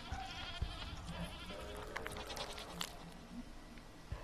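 Goat in a video game lets out a wavering bleat, soft and close, stretching over a few seconds against a quiet ambient bed with no talking.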